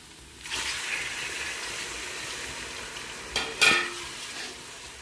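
Tomatoes cook in a pan with garlic paste and spices, a soft steady sizzle that starts after a brief quiet moment and carries through, broken near the end by a couple of sharper stirring clatters.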